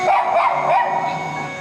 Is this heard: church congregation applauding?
no